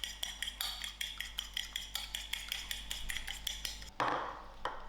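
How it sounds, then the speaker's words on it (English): Egg with a pinch of salt beaten in a bowl, a fork clinking quickly and rhythmically against the side, close and steady, ending with a louder knock. "And put in a grain of salt to it. And I will beat this egg."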